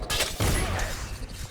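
Rapid bursts of video game gunfire crackle and boom almost continuously, loud and dense, with shots overlapping one another and no clear pauses between them.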